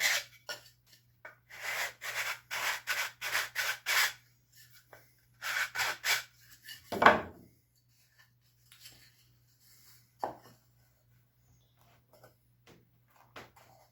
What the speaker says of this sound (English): I'm going to just touch it up a little bit with my sanding stick.